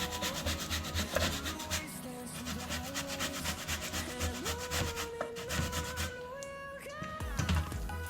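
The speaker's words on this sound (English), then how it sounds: "So I'm grating." Cassava is rubbed against a grater in a steady rasping rhythm, continuous and close, with a tonal musical background running underneath.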